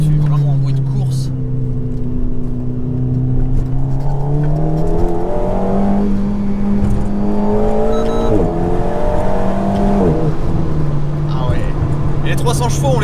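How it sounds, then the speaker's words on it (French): An Alpine A110 sports car tuned to about 300 horsepower, its engine revving up and down through gears on a track, loud and close, with someone talking over it. "ça fait vraiment un bruit de course"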